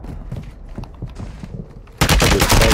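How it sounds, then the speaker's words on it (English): Gunfire in a Call of Duty Warzone Resurgence match, scattered shots under game noise, then a loud dense burst of rapid fire erupting for the final second. "Taking effective fire!"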